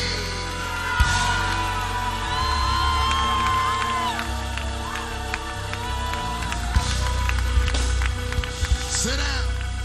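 Church congregation screaming and cheering at a healing service, a loud sustained crowd roar with whoops and shouts over a steady musical backing, with occasional sharper yells standing out.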